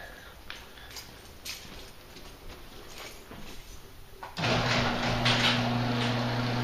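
A repaired garage door opener with a new gear and new wall button starts up and runs, a steady loud motor hum with tonal drone taking over after some quieter clicks and rustle, continuing to the end.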